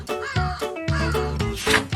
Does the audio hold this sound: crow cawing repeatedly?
yes